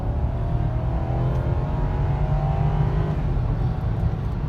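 A 2006 Lexus LS430 pulls out of a U-turn at night with the throttle floored, giving a loud, steady engine roar with rising harmonics that builds throughout and never drops away.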